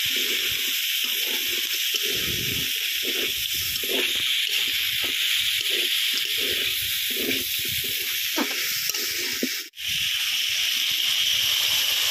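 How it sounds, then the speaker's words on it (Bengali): Water poured into a pan of goat head meat cooking with potatoes, a broad steady hissing sizzle with bubbling throughout, cut by a brief dropout near the end, close and loud. "এবার জল দিয়ে দেবো"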